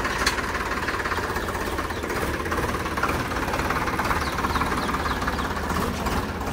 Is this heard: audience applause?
no